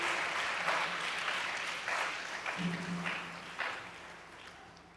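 Congregation clapping together during a French-language church worship service, a sustained, dense wash of applause that swells in brief surges and carries on steadily throughout.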